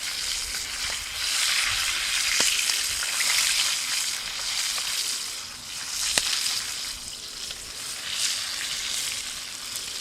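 Food sizzles steadily in a frying pan over an outdoor campfire on a fishing trip in northwestern Ontario, a loud continuous crackle with occasional sharp pops and no talk.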